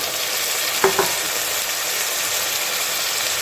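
Chopped onions, tomatoes and green chillies sautéing in a pan for mutton curry, a steady faint sizzle with a couple of quick stirring scrapes early on.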